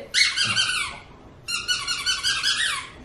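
A squeaky pet toy gives two long bursts of squeaking, each a quick run of shrill squeals lasting about a second, close and loud, with a short quiet gap between them.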